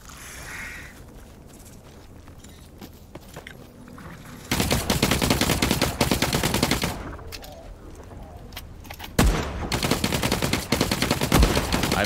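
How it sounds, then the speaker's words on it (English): Loud rapid gunfire from The Cycle: Frontier video game erupts in dense automatic bursts, starting after a quieter stretch and continuing in repeated volleys with single sharp cracks. "I missed both shots."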